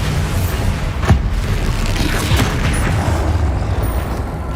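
Bombarda explosion spell cast in the video game Hogwarts Legacy, a loud, dense booming blast with a sharp hit near the start and rumbling combat noise carrying on throughout, with no talk.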